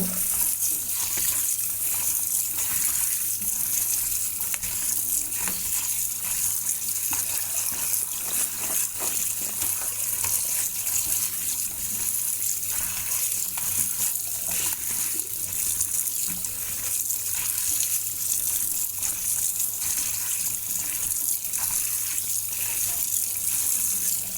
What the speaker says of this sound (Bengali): আমার আদা কাটা হয়ে গেছে, আমি এখন ধুইতেছি।